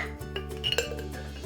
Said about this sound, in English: Place the egg into a jar